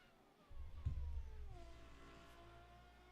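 F1 race cars in a racing video game on the Montreal circuit, engines revving with a loud low roar that swells then settles into sustained whining pitch sweeps as the cars accelerate, no talk over it.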